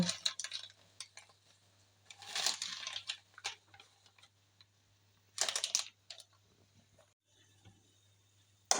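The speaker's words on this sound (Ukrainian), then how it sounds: "І перемішуємо" Spoon stirring sour cream seasoned with salt, pepper and coriander for baked carp, with scraping clinks in bursts separated by pauses, close and moderately quiet over a faint steady hum.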